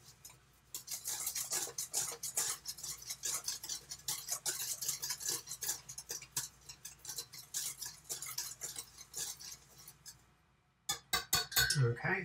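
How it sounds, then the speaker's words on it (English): A whisk stirs dry vegan chocolate cake ingredients in a bowl, giving quick repeated scraping and ticking strokes against the bowl that continue steadily. A short pause follows, then a few louder clinks. "let's grab a whisk and we could just give this a little whisk to start to incorporate all these dry ingredients together"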